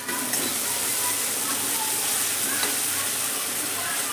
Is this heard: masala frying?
yes